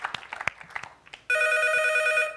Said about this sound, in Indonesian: Dan sudah ada telepon yang masuk.